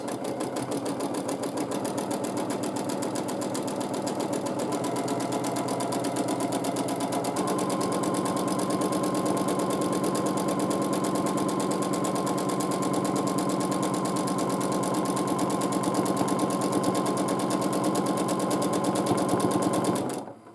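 A sewing machine stitches continuously during free motion quilting, a close, steady rapid needle chatter that shifts slightly in pitch partway through and runs uninterrupted until stopping at the end.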